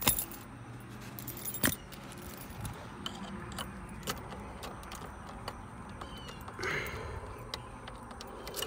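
Keys jangle on and off beside a truck, with sharp metallic clinks and rattles, some close and loud, across a background of faint outdoor noise.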